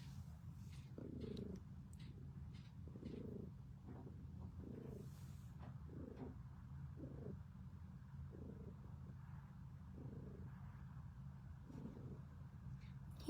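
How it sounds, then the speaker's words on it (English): Close, quiet purring from a sickly cat rescued from the winter cold pulses in an even rhythm of inhale and exhale beats. The purr runs on steadily and alone. "You purring?"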